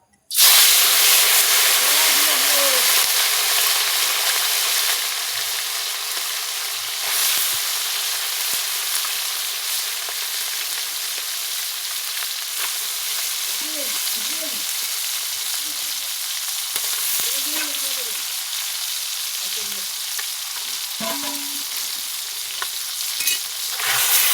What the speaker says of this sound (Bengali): মাছগুলোকে খুব ভালো করে আমি ভেজে নেব।